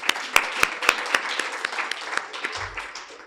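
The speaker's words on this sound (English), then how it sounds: "May we please have another round of applause, please?" Audience applause for an Ombudsman at a rights event, starting with a few sharp, loud claps and then settling into a softer, steadier patter that fades a little toward the end.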